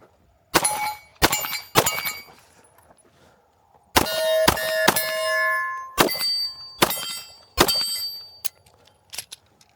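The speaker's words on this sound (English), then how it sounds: "I'm going to shoot some more steel." Pistol rounds from a Shield Plus handgun ringing off steel targets at a range, about a dozen sharp, loud impacts with metallic clangs, in irregular bursts with short pauses between them.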